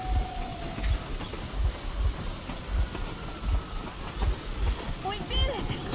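A train in Metro Exodus rolls along with a steady, rhythmic clickety-clack under a constant hiss, loud and continuous throughout.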